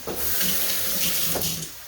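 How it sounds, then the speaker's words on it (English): Water runs from a kitchen tap while hands are washed, a steady close rushing splash that fills the short moment with no talk. "let me wash off my hands here"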